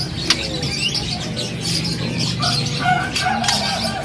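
A caged white-rumped shama at a bird seller's stall gives short chirps and whistled notes over dense, steady background chatter and noise.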